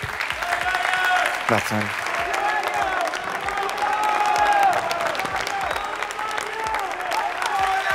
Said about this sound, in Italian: Prendi gli applausi.